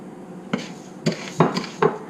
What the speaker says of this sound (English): we're going to put the rice in here, and we're just going to brown the rice.